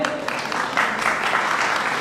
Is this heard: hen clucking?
no